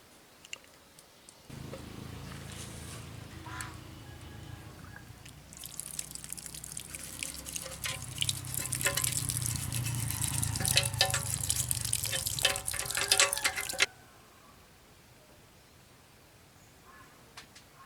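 Water running and splashing over a motorcycle fuel tank being rinsed after soldering a leak, a steady trickle that swells into louder gushing and dripping for about twelve seconds, then stops abruptly.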